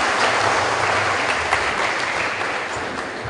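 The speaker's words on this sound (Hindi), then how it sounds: "ताली बजाने में कंजूस मत करिए" Audience applause at a children's Balsanskar Shala gathering in Sydney, a dense, loud wash of clapping that runs steadily for a few seconds and tapers slightly at the end, with no talk over it.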